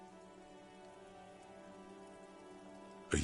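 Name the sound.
rain falling in Disco Elysium video game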